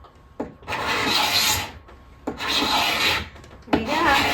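A scraper blade is pulled with both hands across a wooden dresser top, stripping the old finish in three long, rasping strokes separated by short pauses, close and fairly loud.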